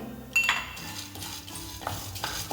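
Peppercorns, fenugreek seeds and other spices being dry-roasted for South Indian sambar masala, with a utensil stirring and scraping them in a metal pan. Close clinks and scrapes come in a few bursts over a soft continuous rattle, with no talking.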